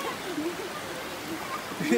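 River water sloshes and splashes as feet are washed in a river in Mariveles, Bataan, Philippines, with a steady flowing stream beneath and a louder splash near the end; voices murmur faintly in the background.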